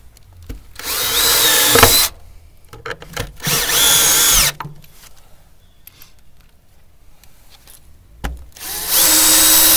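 Power drill driving 60 mm screws into wood while closing off the gap above a roof wall plate in an attic, three loud bursts of whirring drilling separated by quiet pauses.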